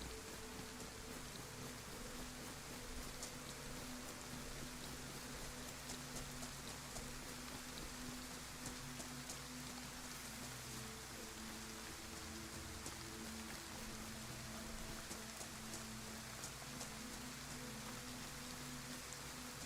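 Steady rain pouring in the DayZ video game's Chernarus map, a dense, even hiss of falling water that continues unbroken at constant level, with no voices.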